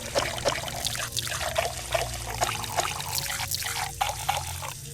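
Water pours into a bucket in a video game, a steady trickling stream with small splashy pulses that runs for the whole stretch at moderate level, with no voices.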